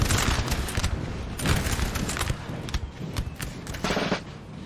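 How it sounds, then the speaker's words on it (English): Light infantry fire rattling musket volleys in a Napoleon: Total War battle, dense crackling bursts rolling one after another, loud and close, with no talk over them. "Rather vicious volleys from these light infantry"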